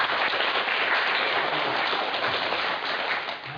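A church congregation at a worship service claps loudly for their parents, a thick, continuous roar of many hands that holds steady and dips slightly at the close.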